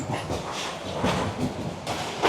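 Inside the moving Kalni Express train, a low steady rumble of the carriage rolling along with faint rattles and clanks, no talk.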